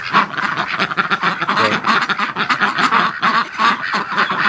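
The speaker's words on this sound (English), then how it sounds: "The ducks are harassing you" A flock of ducks quacks loudly and almost without pause in a backyard, overlapping calls forming a dense, busy chorus close by.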